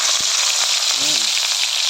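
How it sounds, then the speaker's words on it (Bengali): Rohu fish frying in hot oil, a steady loud sizzle with crackling spatter throughout, while a brief voice sounds near the middle. "মাছ ভাজা হচ্ছে।"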